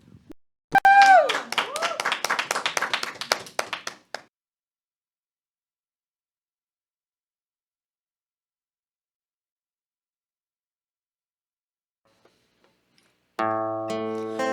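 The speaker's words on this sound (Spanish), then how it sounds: "vamos a recibirlo con un fuerte aplauso" Studio audience claps to welcome a singer on a Catholic talk-show set. A short voice opens a few seconds of crisp, moderately dense clapping, then comes a long silence before sustained music begins near the end.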